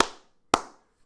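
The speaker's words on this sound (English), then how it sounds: "clap to sync up my audio" Two sharp hand claps ring out close and loud, about half a second apart, each with a brief room decay into silence.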